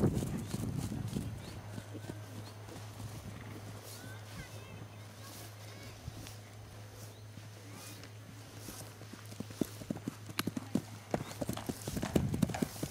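A pony's hooves clip-clop over ground during a cross-country ride at a pony camp, a rhythmic run of hoofbeats that sharpens and grows louder toward the end, set against outdoor wind noise and a steady low hum, with faint voices at times.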